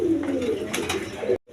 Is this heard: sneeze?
no